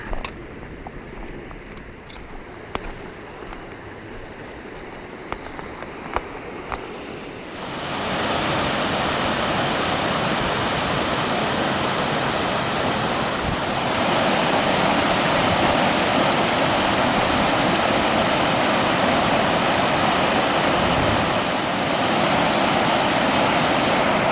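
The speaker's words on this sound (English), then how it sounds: "that's the San Joaquin River" The San Joaquin River rushes in a broad, steady roar, faint and uneven at first, then swelling abruptly into a loud, continuous wash of water that holds to the end.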